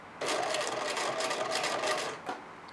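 Sewing machine stitching along a folded fabric binding: a steady whirring run of rapid needle strokes for about two seconds, close and even, then a brief stop and short restart.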